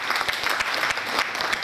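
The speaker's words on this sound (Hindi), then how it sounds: "एक बार जोरदार ताली हो जाए" Audience at an indoor training session claps in a brisk, dense burst of applause, many hands overlapping into a steady patter, fairly close and without talk.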